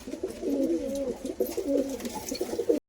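Madras and Giribaz pigeons at a Kolkata sale coo in soft, rolling, throaty phrases, close and continuous for a few seconds with no talk over them.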